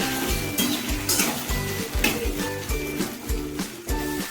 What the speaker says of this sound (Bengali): এবার আমি আলুগুলো দিয়ে গরম করে আলুগুলোকে ভালো করে ভেজে নিতে হবে